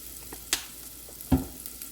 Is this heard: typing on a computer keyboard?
no